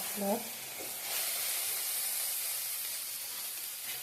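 Eggplant fries in a pan with a steady, soft sizzling hiss that continues throughout, with a brief voice at the start.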